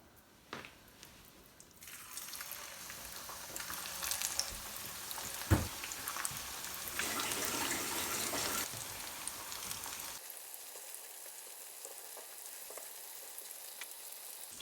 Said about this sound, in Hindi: इसी तरह हमने सारे ही कबाब फ्राई कर लेने हैं।